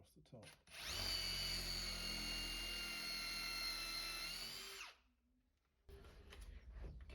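A cordless drill whines at close range for about four seconds as it drives a screw into wood to keep it from splitting. The motor spins up, holds a steady pitch and then cuts off, followed by faint handling noise.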